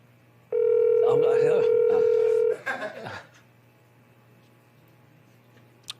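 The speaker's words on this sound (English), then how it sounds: "Let me pretend to dial him on this." A telephone emits a steady dialing or connecting tone lasting about two seconds, loud and close, while people talk and laugh over it, followed by chatter and then quiet.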